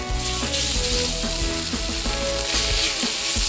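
Strips of beef stir fry sizzle loudly and continuously in hot oil on a griddle set over a Weber Smokey Mountain, with a dense, close crackling hiss and occasional stirring clanks throughout.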